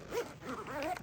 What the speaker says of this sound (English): So that zips that up.